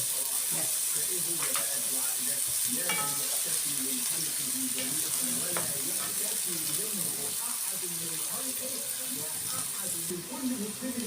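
Onion being stirred as it fries in a small amount of oil, a steady close sizzle with scraping stir sounds throughout, and someone talks over it.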